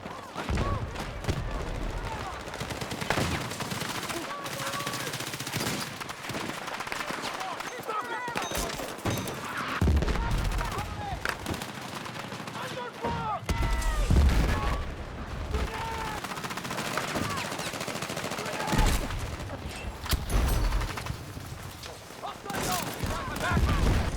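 Bursts of light machine gun fire crackle through a first-person shooter video game, rapid volleys and explosions recurring throughout amid game effects and occasional talk.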